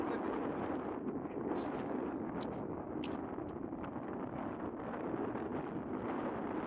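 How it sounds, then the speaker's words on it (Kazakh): Wind blowing outdoors near the Syr Darya river, a continuous low rumbling buffet against the microphone with scattered faint higher rustles over it, steady and fairly loud throughout. "Жел ұрып тұр."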